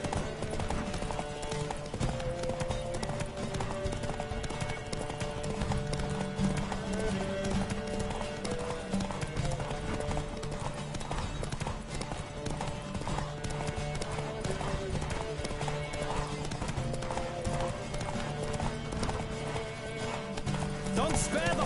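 Horse hooves clip-clop steadily at a gallop in The Witcher 3 video game, loud and continuous with an occasional neigh, while game music and a voice run underneath.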